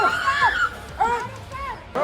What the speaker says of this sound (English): with the sound of women screaming